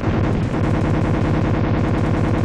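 Rapid, continuous pistol gunfire from the SNES game Robocop vs Terminator, a loud, steady stream of repeated shots over other game sounds.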